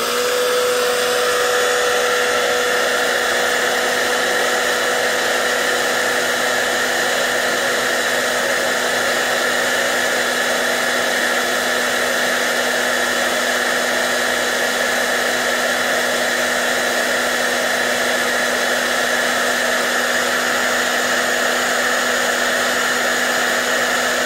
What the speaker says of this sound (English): we're going to hit the hairdryer and see how long it takes for each of these products to break down